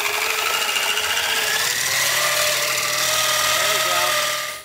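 A Dremel rotary tool spins at full speed while flying like a helicopter, giving a loud, continuous high-pitched motor whine with a shifting buzzing tone that cuts off at the end.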